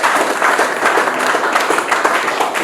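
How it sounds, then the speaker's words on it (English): Audience applause at an angling match prize presentation, a short burst of dense, steady clapping from a gathered crowd indoors. "Big round of applause, please."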